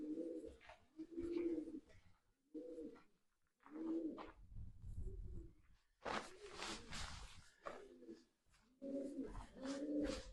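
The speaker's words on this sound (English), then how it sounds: "Can you hear the pigeons?" Several rounds of soft, low pigeon cooing, nearby and unhurried, near lime kilns on Holy Island, broken by short pauses and a stretch of rustling outdoor noise.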